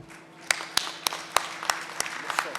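At a political address in Punjab, Pakistan, an audience breaks into a short burst of applause: sparse, distinct claps, moderately quiet and somewhat distant.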